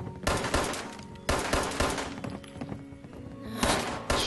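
Rapid bursts of gunfire in the video game Fallout 76, several loud close volleys of shots separated by brief pauses, with impacts and clattering debris in between.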